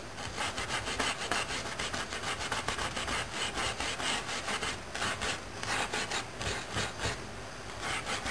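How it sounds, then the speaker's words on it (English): Dry paintbrush scrubbing a small amount of paint off a surface, a continuous close, dry rasping scrub with steady back-and-forth strokes and no voices. "I'm going to scrub this off."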